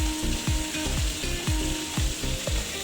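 A thick minced-meat pizza sizzling in a frying pan, steady crackling fry with a regular rhythmic scraping or clicking about twice per second, fairly quiet and alone.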